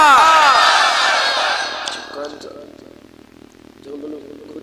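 A large religious gathering crowd roaring a chanted response together, loud and massed at first, then fading into a lower murmur with a quieter swell of voices near the end.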